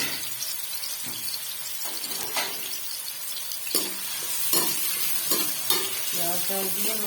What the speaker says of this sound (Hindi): घी हमारा गर्म हो चुका है, तो हम यहाँ पे डालेंगे इसमें प्याज